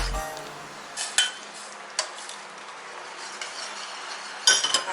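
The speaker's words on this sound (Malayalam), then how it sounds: "നന്നായി ഒന്ന് ഇളക്കി കൊടുക്കാം." A spoon stirs boiled china grass into milk for an eggless pudding, producing a quiet background hiss broken by several sharp clinks and taps of metal against the vessel.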